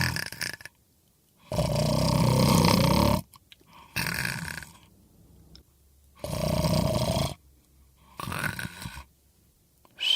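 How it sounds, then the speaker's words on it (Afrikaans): Heavy snoring in bed, deep rasping, roar-like breaths coming in four or five loud bursts separated by quiet pauses, in a slow, regular rhythm. "daar lê 2 leeuetjies en snork in die bed"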